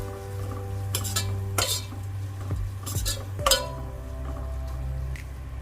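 Spices being stirred into vegetable fried rice in a pan, with several sharp clinks and scrapes of a utensil against the metal over a steady low background hum, no talking.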